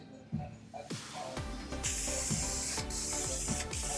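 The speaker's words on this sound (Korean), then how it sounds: "세 번째 뿌리실 때는 첫 번째와 두 번째보다 조금 더 느리게 지나가시면서 스프레이를 좀 더 많이 뿌린다는 생각으로 뿌리시면 되는데요" Spray paint hissing from an aerosol can onto a car bumper during a DIY scratch repair, close and loud, a continuous spray with sharp clicking pulses running underneath.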